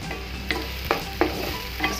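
Chopped tomato frying in a pan for ghiya lal masoor dal, a low steady sizzle with four or five distinct scraping strokes of a spoon spaced through it, close and fairly quiet, no voices.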